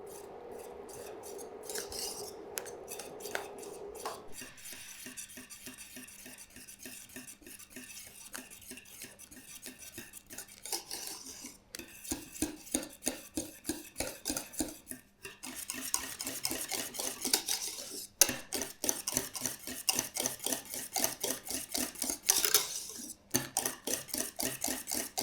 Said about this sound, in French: Donc vous remuez jusqu'à ce que tout se fond